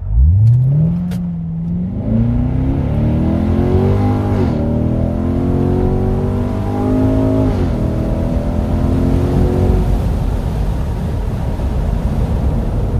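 A 2015 Corvette C7 Stingray engine is started from cold and revved, a loud close burst settling into a steady, deep idle with no talk.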